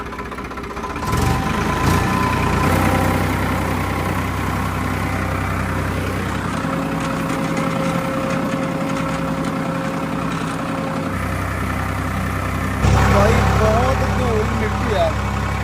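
A power tiller engine idles and runs steadily in a farm field, a constant low mechanical drone throughout, with a louder surge near the end and people talking over it at times.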